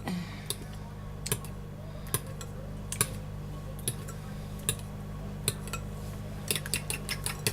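Eggs beaten with a fork in a bowl for a broccoli chicken and cheese quiche, a series of quick sharp clinking taps in uneven bursts, close and fairly quiet over a low background hum.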